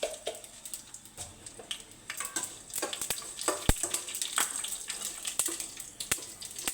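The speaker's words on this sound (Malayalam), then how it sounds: "കടുകിട്ടു. സ്വല്പം ഉലുവ ഇട്ടു." Mustard seeds and fenugreek crackle in hot oil for a raw-mango pulissery, with irregular sharp pops and spits over a soft sizzle, close by.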